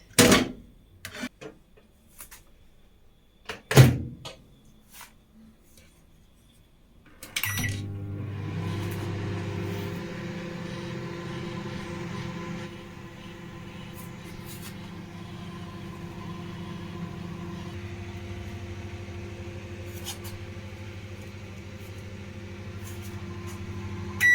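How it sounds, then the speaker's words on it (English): A microwave oven hums steadily after a few clicks and a beep, a low continuous drone that runs on alone, as covered shito sauce ingredients cook inside. "this is going to go into the microwave, and don't forget to cover it"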